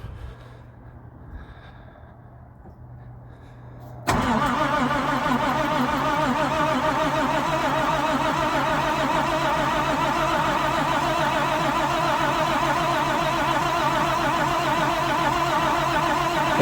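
After a few seconds of quiet, an International dump truck's DT466 diesel engine, running on fresh batteries, catches abruptly. It settles into a loud, continuous close-up rumble that runs to the end.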